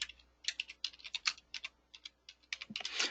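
Someone typing on a computer keyboard, a quick irregular patter of soft clicking keystrokes in short bursts, close by and quiet, with no speech.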